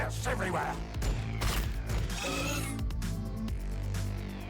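Repeated gunfire bursts from a techmarine's weapons in the Warhammer 40K Battlesector strategy game, sharp volleys rising over a dense, steady battle soundscape with low rumbling music underneath.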